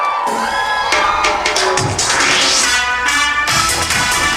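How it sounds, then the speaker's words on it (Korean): Concert audience at a Korean TV music show cheers and applauds for a singer, a dense, continuous crowd roar with shouts and whoops, with faint musical tones underneath. "박수 보내주세요"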